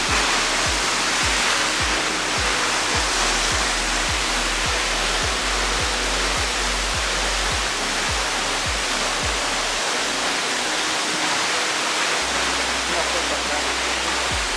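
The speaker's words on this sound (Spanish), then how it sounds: "observas la enorme caída de esta cascada" Aconco Falls in Tetela de Ocampo, Puebla, Mexico, pours as a large waterfall in a steady, loud, broadband roar close by, with low rhythmic thumps of wind or handling underneath and no voices.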